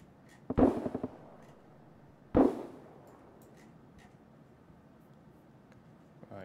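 Two sharp blasts go off in Escape from Tarkov, a grenade explosion and then a second about two seconds later. Each hits with a sudden crack and a short rumbling tail, with quiet room tone between them.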